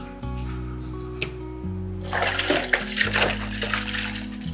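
Water splashes and trickles while the lid of a West Point pressure cooker is washed by hand, preceded by a steady low hum, with the splashing growing louder and busier in the second half, close up.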